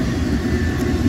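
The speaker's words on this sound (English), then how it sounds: "intermodal train 29G." A Norfolk Southern intermodal train led by a Penn Central heritage locomotive passes at night, giving a loud, steady, deep engine rumble with a broad roar and no voices.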